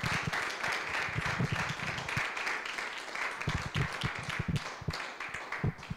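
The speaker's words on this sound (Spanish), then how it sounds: "Damos otro aplauso a los ponentes." An audience at an astronomy conference claps for the speakers, a moderately sparse, uneven round of individual hand claps that continues steadily for several seconds, fairly close and at medium loudness.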